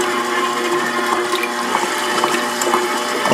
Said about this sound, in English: I'm using a stand mixer.